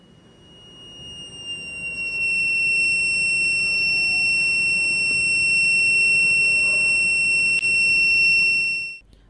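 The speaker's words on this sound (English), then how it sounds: "as soon as sensor detects the smoke, the buzzer starts beeping and red LED glows" Smoke detector circuit with an MQ02 sensor, exposed to incense smoke, sounds a loud, continuous high-pitched electronic buzzer tone that holds steady for several seconds before cutting off, over a faint background hiss.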